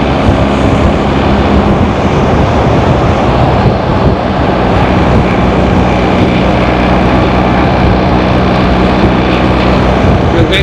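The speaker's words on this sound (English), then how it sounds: "High revving engine." A BMW R1300GSA motorcycle engine revs high, a loud, steady drone mixed with rushing wind that holds without a break from start to end.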